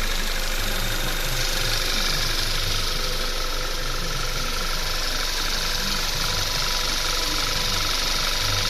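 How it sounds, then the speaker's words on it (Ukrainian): An Audi A4 2.0 TSI petrol engine idles steadily and loudly up close after injector cleaning, a constant low rumble with an even mechanical hum and no talking. "Ось так от працює двигун."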